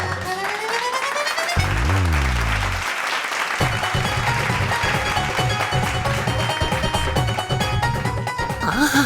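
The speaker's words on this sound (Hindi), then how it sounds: "पहली बार है मिल रही मुझे तालियां" Audience applause in a children's fantasy TV show scene, sustained clapping that carries over a music score for most of the stretch, fairly loud and continuous.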